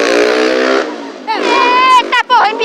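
Engine of a friend's dirt trail bike revving hard as he pulls a wheelie, loud and close, with pitch rising and dropping through sharp throttle bursts and a brief cut, under excited voices.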